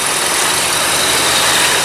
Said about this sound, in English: The engine seems to be running very strong.